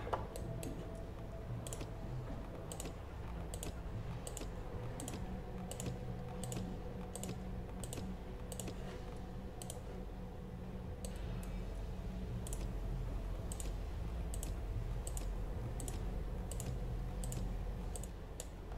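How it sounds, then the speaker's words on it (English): Steady rapid keyboard and mouse clicking from a streamer playing World of Tanks, fairly close and continuous throughout, with a low background hum and no talking. "If my clicking is that loud, let's bring that down."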